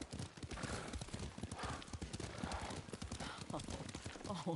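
Horse hooves galloping in the samurai game Ghost of Tsushima, a steady rapid clip-clop of hoofbeats close by, faint and continuous, with a brief whinny and some talk mixed in.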